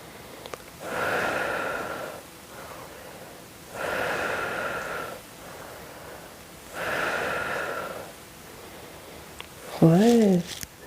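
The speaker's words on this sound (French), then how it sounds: "Inspire et expire. Inspire, expire." Breathing in and out during a seated muscle-strengthening exercise: three slow, even, close breaths with quiet pauses between them, followed by a brief voice at the end.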